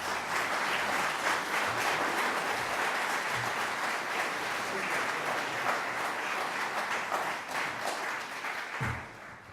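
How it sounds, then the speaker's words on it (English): A crowd applauds steadily for several seconds at an event honoring 1968 sanitation workers, the clapping holding at a fairly even level before tapering off near the end. "Let's give him a big round of applause"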